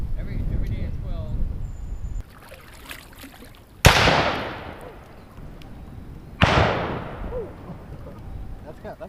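Two sharp booming cannon shots, likely a Come and Take It replica cannon, ring out across a Texas river while kayaking, each blast followed by a long echoing decay. Water and paddling sounds and a quiet voice come before the first shot.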